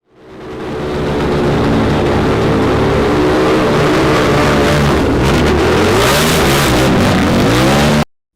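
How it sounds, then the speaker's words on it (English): A motorcycle engine fades up quickly and roars continuously at close range, revving with shifting pitch and growing harsher toward the end before stopping abruptly. "Motorcycle."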